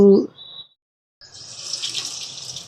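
Running tap water wets hands while vada batter is shaped, a close steady hiss of flowing water that starts after a brief voice and a moment of silence.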